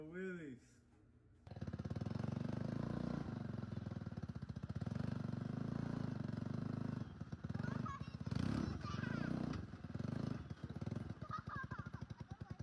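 A lifted four-link golf cart with a 250cc Honda engine revs up and holds a loud, steady buzzing drone through wheelies, with throttle surges near the end and voices calling out over it.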